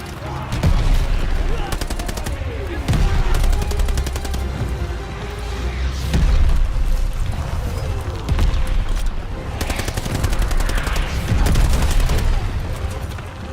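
Sten submachine gun firing in Call of Duty: Vanguard, with sustained automatic bursts repeating every couple of seconds, loud and close, and a low rumbling background between volleys.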